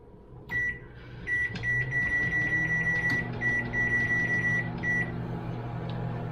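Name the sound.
microwave oven running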